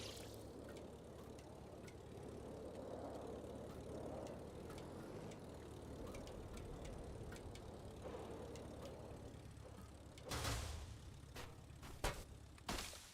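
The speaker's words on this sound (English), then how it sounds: "Model airplane." A model airplane propeller engine in the game Trailmakers drones steadily and quite faint through most of the span, with a few sharp bursts and clicks near the end.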